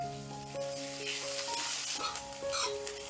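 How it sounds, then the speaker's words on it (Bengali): Garlic, onion and green chilli fry lightly in oil for tomato bhujia, a faint bright sizzle with occasional stirring, under steady tonal background notes. "এবারে রসুন পেঁয়াজ আর কাঁচা লঙ্কাটা হালকা করে ভেজে নিচ্ছি"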